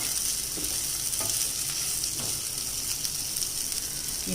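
Ivy gourd (kovakkai) sautéing in a pan, a steady close sizzle and crackle of frying with faint stirring scrapes, with no talk over it.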